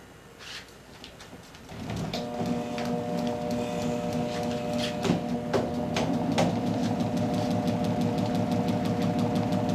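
A generator driven by a prime mover starts up and runs. After a quiet start it settles into a steady mechanical hum with a rhythmic ticking, clattering beat, close and moderately loud.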